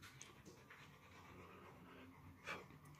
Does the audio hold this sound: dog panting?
yes